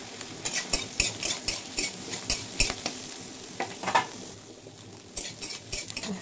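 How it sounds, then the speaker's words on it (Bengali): Vegetables and soybean chunks fry in a pan, sizzling steadily while a utensil scrapes and clanks against the metal in a quick irregular stirring rhythm, close and fairly loud. "এবার আমি সবজিগুলি আর সোয়াবিন সব ভেজে নেবো।"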